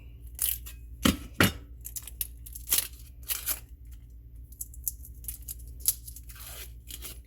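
Papery crackles, rustles and soft snaps come from onion skin being peeled off by hand, up close and quiet, in an irregular series of short bursts.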